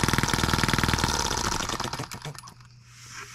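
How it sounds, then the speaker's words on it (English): A small scale model Atkinson engine, the M14, runs with a rapid, even mechanical chatter, loud and close at first, then slows and fades as it winds down. "What a cool little engine. I like it. It runs well."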